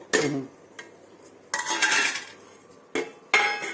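Tree sorrel and jaggery are crushed in a metal pot, making several sharp scraping clanks and pounding knocks in uneven bursts, close and fairly loud with short quiet gaps.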